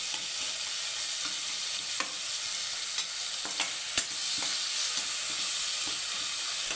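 Cooked tomatoes mashed in a frying pan, a steady sizzle broken by regular soft taps and scrapes of the spoon against the pan.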